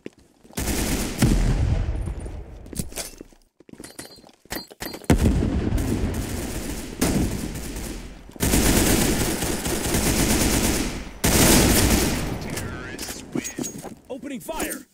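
Gunfire in the Roblox shooter Counter Blox: bursts of rapid automatic fire separated by short gaps, loud and close, with some booms and mechanical clicks. Voices are heard among the shots.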